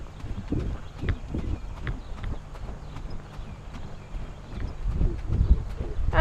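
Horse named Dreamer trotting under an English-style rider, with a steady series of soft hoof thuds at moderate distance against faint outdoor background noise.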